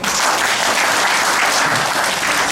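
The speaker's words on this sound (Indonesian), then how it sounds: "Tepuk tangan dong." An audience at a Halal Bi Halal gathering bursts into dense, steady clapping, loud and close, sustained for a couple of seconds with no voices over it.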